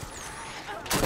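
A single burst of weapon fire from the video game Halo 5: Guardians, a short blast with a sharp crack near the end, loud and close.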